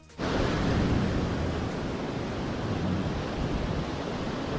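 Sea waves breaking on Ladghar Beach in Dapoli, a loud, steady, broadband roar of surf that begins abruptly and carries on without a break, close by with no voices.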